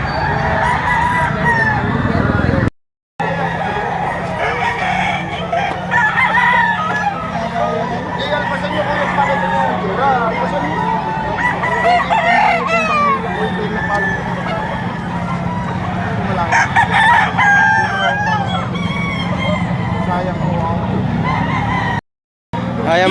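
Roosters and fowl at a gamecock selling spot, with crowing and clucking heard through a steady crowd murmur and people talking nearby throughout.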